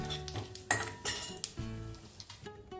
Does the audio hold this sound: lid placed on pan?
yes